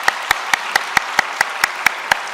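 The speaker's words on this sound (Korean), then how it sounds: "박수 한번 쳐주세요." A church congregation claps in crisp unison at a Christmas service after an infant baptism, about ten sharp, evenly spaced claps in a brisk steady rhythm.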